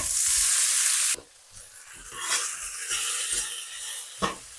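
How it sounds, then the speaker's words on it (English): Loud sizzling burst of tofu hitting hot oil in a wok, then quieter crackling with scraping and stirring sounds throughout. "I'm gonna start by frying my tofu."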